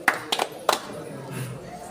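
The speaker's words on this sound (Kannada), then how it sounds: "ಎಲ್ಲರೂ ಚಪ್ಪಾಳೆ ಕೊಟ್ಟು ನಮಸ್ಕಾರ ಮಾಡಬೇಕು" A few sharp hand claps, about four in quick, uneven succession, before the Chandikeshwara shrine at the Kadamba-era Umamaheshwara temple in Banavasi, close by, with voices in the background.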